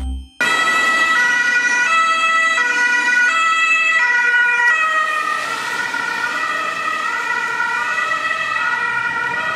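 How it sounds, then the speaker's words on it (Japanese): A two-tone German ambulance siren alternates steadily between high and low notes, loud and close, continuing for several cycles. "ドイツの救急車です。"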